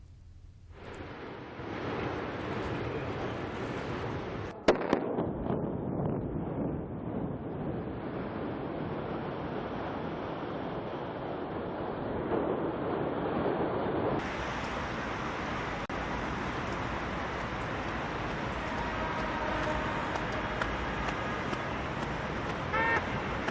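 A large building in China collapses after demolition with 1.4 tonnes of explosives: a sharp crack opens a sustained, loud, broad rumbling roar that continues steadily as debris falls, with no voices.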